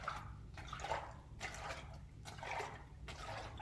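Soapy water is sloshed and agitated in a container in short repeated surges, a soft rhythmic liquid swishing, close and fairly quiet.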